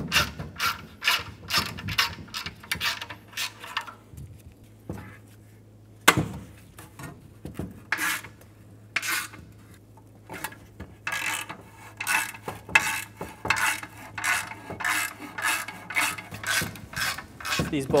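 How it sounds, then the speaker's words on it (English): Ratchet wrench backing 10 mm bolts off the heat shields of an old exhaust manifold catalytic converter on a 2007-2012 Nissan, giving close, loud bursts of quick clicking separated by short pauses and metallic handling sounds. "We're going to remove the heat shields off of the old converter and move it to the new assembly. These are 10 millimeter bolts."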